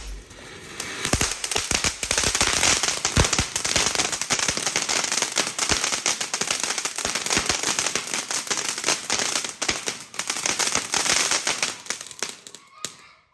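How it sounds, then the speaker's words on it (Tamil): A flower pot firework burns at a Diwali celebration, giving a loud, dense crackling spray of sparks with sharp pops, sustained for about twelve seconds before dying out abruptly. "இதுவும் வந்து ஃப்ளவர் பாட் தான்."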